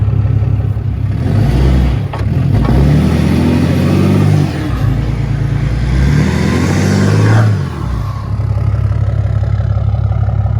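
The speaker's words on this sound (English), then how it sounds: "I did a little bit of a burnout on it." A vehicle's tire spins on a traction recovery board during a brief burnout, the engine revving loudly and steadily with rising and falling surges throughout, close and continuous with no talk.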